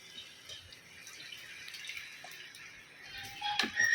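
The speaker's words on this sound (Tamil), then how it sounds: "இந்த ஸ்டேஜில் நாங்கள் புளி தண்ணி போட்டுடலாம்." Tamarind water poured into a bitter gourd curry cooking in a pan, a faint trickling and splashing that grows louder toward the end.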